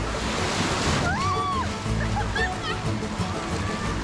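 Rio Celeste river water rushes and sloshes close by while tubing down rapids in northern Costa Rica, a continuous splashing churn with excited voices and whoops rising over it.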